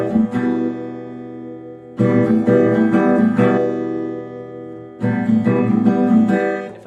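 Spanish guitar strummed with both fretting fingers lifted off, three bright full strums at roughly three-second intervals, each ringing out and slowly decaying, close and alone without any talk.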